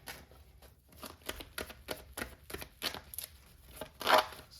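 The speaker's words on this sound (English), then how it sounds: "So let me shuffle some more." Cards being shuffled by hand in a series of quick, crisp riffling bursts, close and moderately quiet, with a louder flurry near the end.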